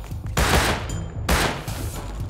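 Two bursts of rapid Tommy gun fire in the video game Rust, loud and close, each lasting under a second with a short gap between them.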